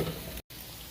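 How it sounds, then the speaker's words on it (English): Calabacitas vegetables sautéing in a pan make a brief, close, steady sizzle with a momentary break midway. "I'm going to let them all saute up."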